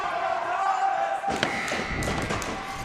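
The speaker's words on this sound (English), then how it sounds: "The crowd's going crazy on both sides." A gym crowd roars and shouts at a 7th grade girls' volleyball state championship game, loud sustained cheering with thuds and a ball strike, building louder after a brief lull, with a commentator's voice underneath.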